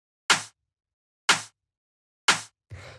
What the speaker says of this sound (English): the last percussion sound we have here before I show you the groove processing is this rim shot